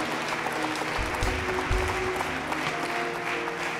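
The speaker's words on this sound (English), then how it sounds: "Give God a hand clap of praise right there." A church congregation claps hands in praise during a worship service, a steady broadband wash of many hands filling the room without a break, with faint background murmur underneath.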